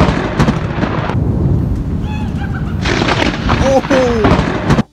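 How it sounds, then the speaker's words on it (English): Thunder from a nearby lightning strike during a thunderstorm, heard as a loud sustained rumble with rain-like broadband noise, a sharp crack partway through and some faint tonal sounds alongside. "Nick Credo happened to be in the perfect position to capture a striking lightning bolt"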